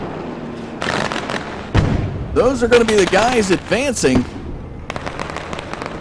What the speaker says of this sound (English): We hear the fireworks in the air for this heat race.